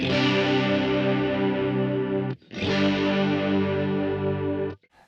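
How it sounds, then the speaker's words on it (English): Two sustained electric guitar chords through a VOX AC30 amPlug 2 chorus effect, with a shimmering, doubled tone, each ringing out before a brief gap; no talking. "if I press the effects button once, I think I get a nice chorus sound"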